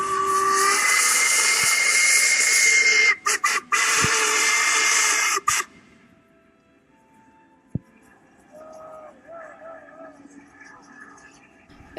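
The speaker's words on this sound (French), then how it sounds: "Sur le viaduc de Glenfinnan, on peut voir passer le Jacobite Train, un des plus vieux trains à vapeur du monde." Jacobite steam train crossing Glenfinnan Viaduct, its steam whistle shrieking loud and sustained with hissing steam for several seconds, then cutting off abruptly, leaving quieter open-air background with faint honks.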